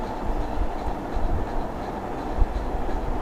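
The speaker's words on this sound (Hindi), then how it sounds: "यहाँ पे हवा खूब चल रही है" Strong wind gusting across the open sandstone ruins of Kuldhara village, a steady broadband rush with low buffeting thumps near the microphone, loud and continuous throughout with no voices.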